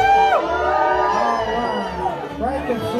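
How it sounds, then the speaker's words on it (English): A square dance crowd at the Floyd Country Store's Friday Night Jamboree lets out loud whoops, yells and cheers, a sustained rowdy burst of many voices close by. "I want to hear some yelling."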